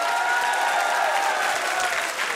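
A steady wash of audience applause fills a televised singing show, dense and continuous throughout without a break.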